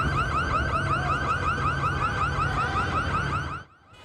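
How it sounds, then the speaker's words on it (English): A car alarm wails in rapid repeating up-and-down sweeps, loud and insistent, amid looting in downtown Los Angeles, then cuts off abruptly near the end, leaving faint background noise. "You can hear the alarms going off"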